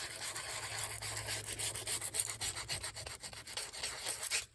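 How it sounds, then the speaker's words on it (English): Close, rapid scratching rubs across a journal's surface, roughing it up in quick repeated back-and-forth strokes, a papery rasping texture with no talk. "I just want to rough up the top. Just scratch it because the glue will kind of get down in those scratches."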